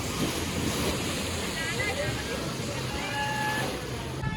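Ocean waves break at Dwarka beach in a continuous, loud rush of surf with wind buffeting the microphone and faint voices in the background.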